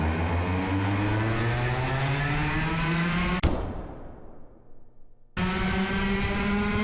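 Racing go-karts roar past at close range in a loud, sustained engine drone that rises in pitch at the race start, cuts out sharply midway, then returns at full volume.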